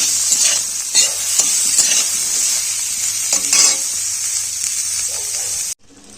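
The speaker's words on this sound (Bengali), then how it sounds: "নুন হলুদ দিয়ে ফুলকপিটা ভেজে নেবো" Cauliflower frying with salt and turmeric in a pan, a steady loud sizzle with stirring scrapes running throughout, cutting off abruptly near the end.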